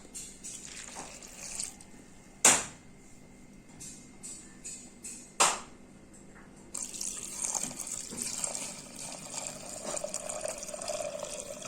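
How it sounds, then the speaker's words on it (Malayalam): Water poured into a pot of jackfruit seed curry with turmeric and chili powder: scattered trickles and two sharp clanks, then a steady pouring stream in the last few seconds, fairly quiet. "വെള്ളം ഒഴിച്ച് കൊടുക്കാം"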